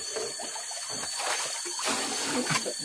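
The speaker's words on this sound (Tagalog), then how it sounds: "narinig nyo yung mga kasubog yung galaw ng tubig" Water splashes and churns as a large, freshly caught fish thrashes about during a fishing catch. The irregular wet slaps and sloshes sound close and moderately loud over a constant hiss.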